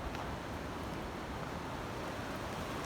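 Snowmelt stream from the Kaçkar Mountains near Ardeşen, Rize, rushing in a steady, loud broadband roar with no pauses and no voices.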